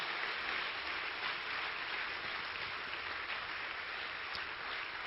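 A church congregation applauds at a service: a steady, wide wash of clapping, muffled and fairly faint, holding evenly throughout with no talking.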